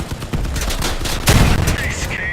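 Cannon fire in the vehicle combat game Crossout, a rapid burst of booming shots with one heavy blast in the middle, loud and close amid game noise, with a voice talking over it.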